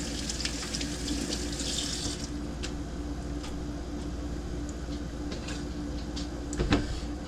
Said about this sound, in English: So, got our little zucchini here. We're gonna give it a rinse.